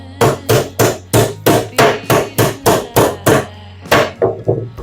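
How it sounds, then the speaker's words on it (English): Heavy hammer blows ring out on a Samsung WW90M64FOPO washing machine drum during a bearing replacement, about a dozen steady strikes close by, then a brief pause and a few quicker, lighter hits. "We have to fix, we have to hammer only here."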